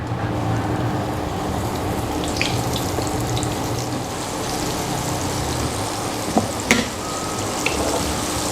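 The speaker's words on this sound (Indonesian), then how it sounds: "kalau kita sudah mengcoating semua daging ayam ini dengan tepung, baru kita goreng" Flour-coated chicken pieces for salted egg chicken fry in hot oil, giving a steady, dense sizzle throughout, with a couple of brief clinks near the end.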